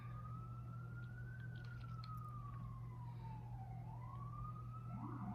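An ambulance siren passes at a distance, its wailing tone slowly rising and falling over a steady low hum, with no talking.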